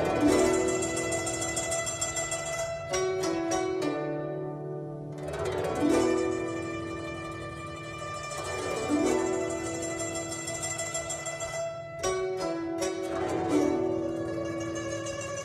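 Instrumental phrases in Shanxi opera style, with large upward sweeping glissandi rising to a sustained tremolo on a high note, repeated several times with brief pauses between phrases and no talking.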